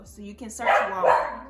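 A pet dog barks indoors, two or three sharp close barks mixed with someone talking over them.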